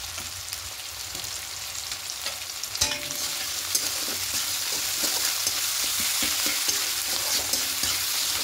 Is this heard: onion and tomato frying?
yes